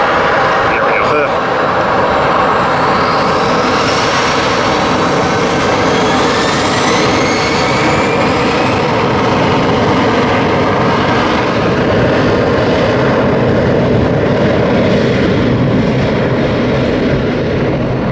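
Airplane lifting off at San Diego airport, a loud, broad, sustained jet engine roar close by with a slowly shifting whine, steady throughout with no break.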